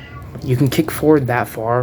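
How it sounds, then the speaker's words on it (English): A cat meows several times nearby, drawn-out plaintive cries that overlap someone talking close to the microphone. "That's my cat crying."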